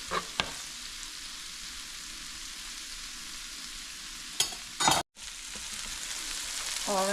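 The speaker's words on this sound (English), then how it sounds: "just give this some stir and just allow it to saute a little bit" Vegetables for a brown stew fish recipe sauté in a pan with a steady soft sizzle, broken by a few sharp utensil scrapes and clanks as they are stirred, without any speech.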